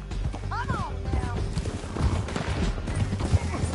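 Horse hooves clip-clop in a steady galloping rhythm in the Red Dead Redemption 2 video game, close and continuous under a busy game soundtrack with voices throughout.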